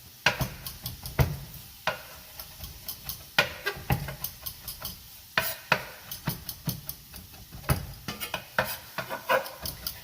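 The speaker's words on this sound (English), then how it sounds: "Just mix everything up." Stuffed baby bella mushroom filling with thyme stirred in a bowl, a steady run of sharp scraping clicks and soft mixing strokes, close and fairly quiet with no talk.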